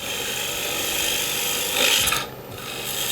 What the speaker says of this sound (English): So now we're going to start making a curved push cut in.